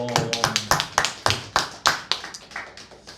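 A church congregation at a Christmas service clapping, a loose run of separate sharp claps with a few scattered hands rather than a full ovation, close and uneven in rhythm.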